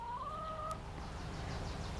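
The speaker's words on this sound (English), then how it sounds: "But all the chickens are doing well." Chickens in a summer garden let out a short high cluck or squawk near the start, then fade into steady outdoor background noise.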